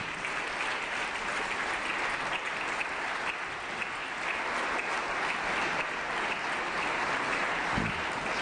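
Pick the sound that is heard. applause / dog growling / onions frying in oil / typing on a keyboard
applause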